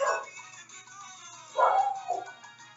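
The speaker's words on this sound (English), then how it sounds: "My dog is being crazy." A pet dog indoors gives a loud bark at the start, then after a pause barks twice more in quick succession, close to the microphone.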